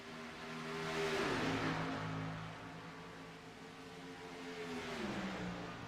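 Race cars in a California 200 race on an oval track: engines swell as a pack of cars roars past, the whine dropping in pitch, then a second car approaches and passes more faintly.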